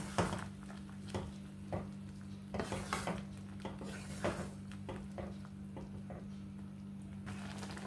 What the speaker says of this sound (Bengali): এবার ভালো করে নেড়ে মিশিয়ে নেব।